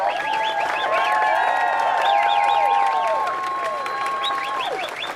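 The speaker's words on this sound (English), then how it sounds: "Let's give them another round of applause." Crowd at a protest outside the U.S. Department of State applauding and cheering, loud and sustained, with wavering whistles and shouted tones riding over the steady clapping.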